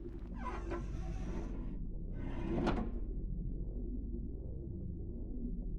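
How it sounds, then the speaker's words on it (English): A sliding door in a video game grinds open after a manual floor winch is worked, giving a brief mechanical scrape and clunk over a steady low rumble of ambient game sound. "Working the winch will open the door."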